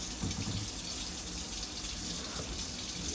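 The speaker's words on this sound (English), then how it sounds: "when we run some water, to wash your meat off" Tap water runs steadily into a sink as meat is rinsed, a continuous close splashing gush that fills the whole stretch without pause.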